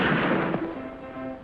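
A single sharp gunshot cracks loudly up close in a TV western, followed by a short echoing tail and a faint ringing tone as it fades.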